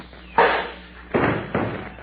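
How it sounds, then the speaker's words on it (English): Radio-drama sound effect of a cuspidor thrown and striking a head: three heavy, close thuds and crashes, one followed by two more in quick succession, loud and free of voices. "I'll throw this cuspidor at him."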